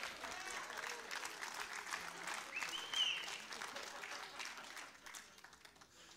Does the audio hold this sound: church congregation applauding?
yes